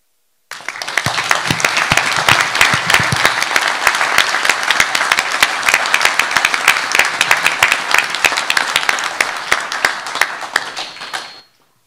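Audience applause at a commission hearing on the correctional staff wellness crisis, loud sustained clapping from a room full of people that begins abruptly, holds steady for about eleven seconds, and then cuts off.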